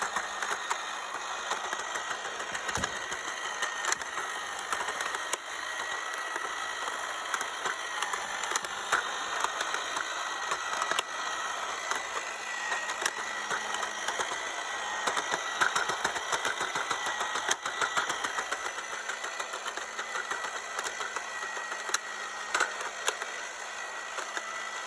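A running engine with cylinders firing one at a time gives a steady, dense mechanical clatter and hum, continuous and fairly loud throughout with no talk.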